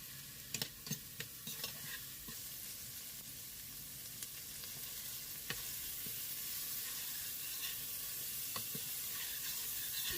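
Onion and spices sautéing in a pan for a chickpea curry, a steady soft sizzle with scattered clicks and scrapes of stirring throughout, fairly quiet and with no talking.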